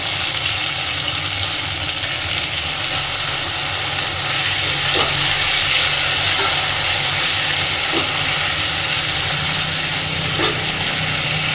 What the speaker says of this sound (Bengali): চিংড়ি মাছটা দেওয়ার পরে আরও মিনিট দিয়ে এটাকে এইভাবে ভেজে নেব।